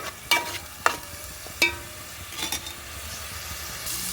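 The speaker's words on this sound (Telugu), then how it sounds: "పేస్ట్ అంతా బాగా పచ్చేసిన పోయేటట్టు వేయించుకోవాలి" Ginger garlic paste frying with tomatoes in a pan, a soft steady sizzle broken by a few sharp clinks and scrapes of a spoon stirring against the metal, close up with no voices.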